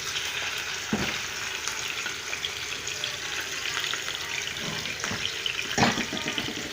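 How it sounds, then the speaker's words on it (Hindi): Chicken pieces fry in half a cup of hot oil for a Sindhi tomato chilli chicken, with a constant close sizzle and a few stirring knocks. "सबसे पहले हम इसमें फ्राई करेंगे चिकन को।"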